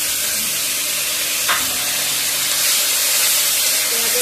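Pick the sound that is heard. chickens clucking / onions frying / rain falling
onions frying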